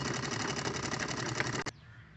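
A sewing machine stitches a party wear drawstring wrist bag, running in a fast, even buzz up close before stopping abruptly near the end.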